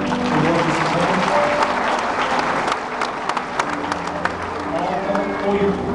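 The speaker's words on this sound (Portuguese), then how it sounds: "Uma salva de palmas para ele." An audience bursts into steady, sustained applause for Ali, dense clapping filling the room, with some crowd voices and a few sharper claps rising above the wash.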